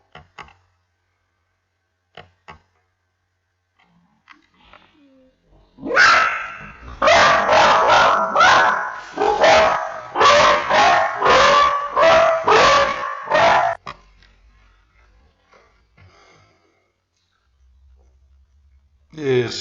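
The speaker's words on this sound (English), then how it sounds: "sorry about the dogs" Several dogs bark in a loud, rapid burst of repeated barks lasting several seconds, near and indoors, with quiet gaps and faint sounds before and after.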